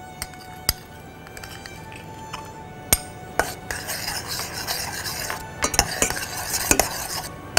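A spoon stirs gelatin into boiling strawberries and sugar in a pot for a mini strawberry cheesecake topping, giving scraping clinks against the pot over a soft bubbling sizzle, with sharper knocks scattered throughout.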